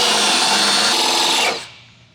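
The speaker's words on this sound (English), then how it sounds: "A little carbide on the drill." A power drill fitted with a carbide bit bores a hole, a loud high grinding whine that runs steadily, then spins down and fades after about one and a half seconds.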